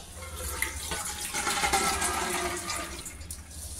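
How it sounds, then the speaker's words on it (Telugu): Soaking water from chickpeas, green gram and rice drains away in a steady, rushing flow like a running tap, continuous and fairly close for the whole stretch. "ఇప్పుడు వీటిలో నుండి వాటర్ మొత్తం తీసేయాలి."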